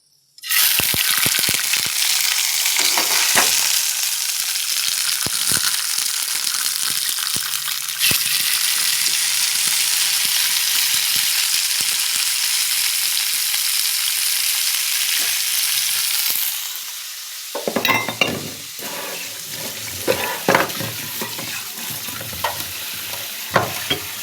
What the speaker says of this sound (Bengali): এবার এই দেখো মাছ ভাজবো।